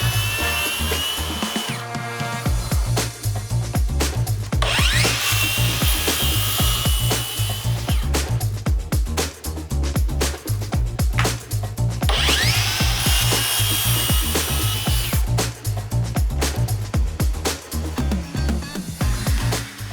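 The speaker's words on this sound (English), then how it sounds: "I cut the glued up panels down to their final dimensions with the track saw." Track saw slicing glued-up wooden panels to final size in a workshop, two long loud whining cuts over a constant motor roar with rasping blade noise, close and continuous.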